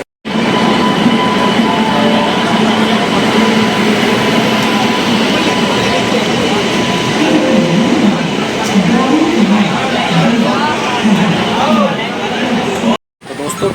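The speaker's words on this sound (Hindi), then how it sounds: "तो ट्रेन के अंदर मैं बैठ चुका हूँ।" Inside a moving Banaras Superfast Express passenger train, a loud, continuous rumble and rattle of the carriage runs throughout, with a faint murmur of voices before a brief drop near the end.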